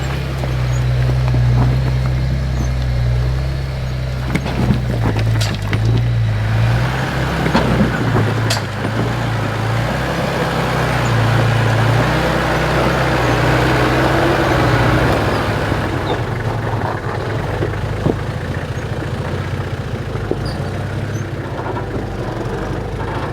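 A 4WD truck grinds up a steep rocky track in the Blue Mountains, its engine droning steadily with low rumbling revs, scattered knocks and clatters of rock and suspension over the whole climb, no voices.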